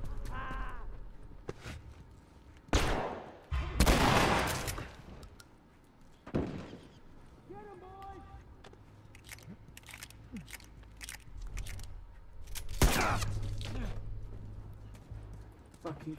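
Scattered gunshots in The Last of Us Remastered, several sharp broadband bangs spread irregularly over a game soundscape, with quieter impacts and a voice speaking at times.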